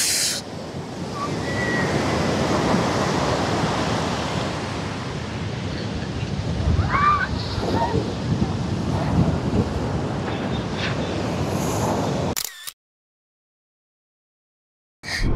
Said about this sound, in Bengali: সমুদ্র এরকম ডান্স করছে, কি সুন্দর, অপূর্ব অপূর্ব।